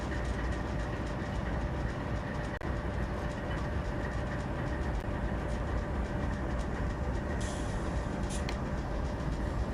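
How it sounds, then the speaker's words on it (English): Toy steam train set running steadily on its track and gathering speed, a continuous dense rumble with rhythmic rail clatter and a brief hiss near the end. "This train is full of steam and ready to roar."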